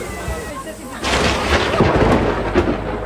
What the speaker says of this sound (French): alors que la pluie ne cessait de tomber